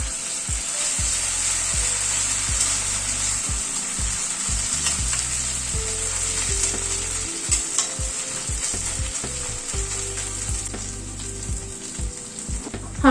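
Ginger paste with ground green chilies frying in a pan, a steady bright sizzle close by, broken by repeated scraping and stirring knocks that come at an irregular rhythm.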